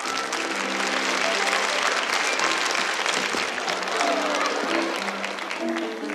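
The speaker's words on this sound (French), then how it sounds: "on l'applaudit très fort." Loud, sustained applause from a crowd fills the room, with some voices and cheers mixed into the clapping.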